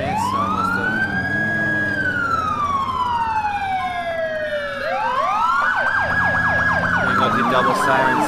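Police emergency sirens in the video game GTA IV with the LCPDFR mod, loud and close, with a slow wailing rise and fall overlapping a faster yelping siren that joins midway, over a running vehicle engine.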